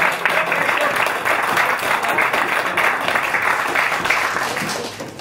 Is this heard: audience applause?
yes